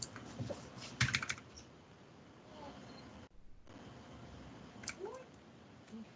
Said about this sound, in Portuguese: Vamos digitando no código e vamos explicando